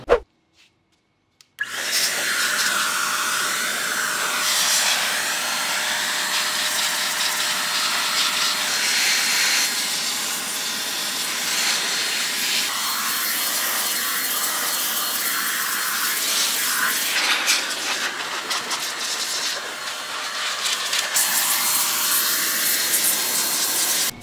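Compressed air blasts dust out of a gaming PC in a garage, a loud continuous hissing roar that holds for over twenty seconds with slight shifts as the nozzle moves, after a short quiet start.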